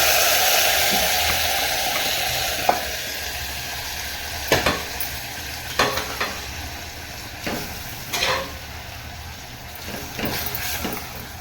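Boiled goat intestine frying with browned onions in a pan for a gravy, a steady broad sizzle running throughout with a few sharper crackles and stirring scrapes standing out at intervals.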